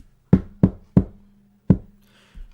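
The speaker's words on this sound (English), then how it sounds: "When the final disembodied knock echoed like an exclamation point" Four sharp knocks on a wooden door as a sound effect in a spoken horror story, three quick raps then a pause and a final knock, each ringing briefly in an otherwise quiet room.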